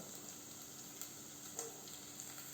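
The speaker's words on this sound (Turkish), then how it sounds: "Bakın biber. Kızartıyorum şimdi burada." Peppers fry in a pan with a soft, steady sizzle and a few faint clicks and stirring sounds, quiet and close, with no talk.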